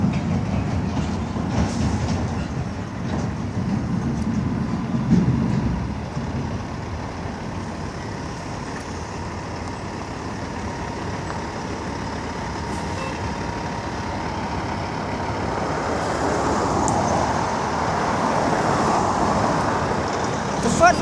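A truck passes on a rural road near a quarry, a low rumbling swell that builds and fades over about twenty seconds, with steady road noise and distant machinery in the background.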